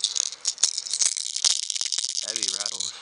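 A fire tiger fishing lure loaded with heavy rattles is shaken in hand, giving a bright, continuous clicking rattle close to the mic, with a voice starting up near the end.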